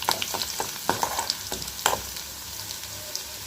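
Onions sautéing in a pan for a raw banana poriyal: a continuous sizzle broken by repeated sharp scraping strokes of a stirring spoon, close and fairly loud, with no voices.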